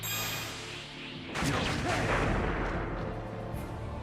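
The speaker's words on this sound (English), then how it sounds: "Explosion." A spell explosion in the video game Valkyrie Profile 2: Silmeria bursts suddenly over faint game music and carries on as a loud crackling rumble that slowly fades.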